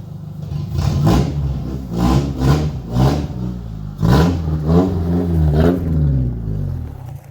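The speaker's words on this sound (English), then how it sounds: "right now it's still misfiring on cylinder 3" The GSR-swapped Honda Civic EG hatch engine, misfiring on cylinder 3, revs repeatedly in a series of uneven surges and drops, loud and close, with a rough, stumbling note between blips.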